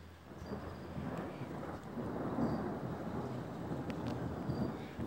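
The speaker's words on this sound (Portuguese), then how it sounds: "Já começa o temporal" A heavy thunderstorm at night in Poços de Caldas, Minas Gerais, with low rumbling thunder rolling over steady rain and some wind buffeting the microphone, continuous for several seconds.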